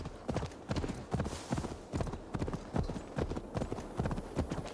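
Horse hooves clip-clop at a steady trotting rhythm across open English countryside in Assassin's Creed Valhalla, crisp, evenly spaced hoofbeats close by with no talk.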